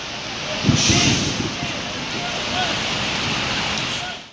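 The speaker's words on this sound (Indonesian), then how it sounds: "Ini hujan nih." Rain falls at a bus terminal, a dense even hiss that fills the scene, with a couple of brief thuds and faint voices in the background early on.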